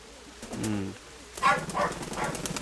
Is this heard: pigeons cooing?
yes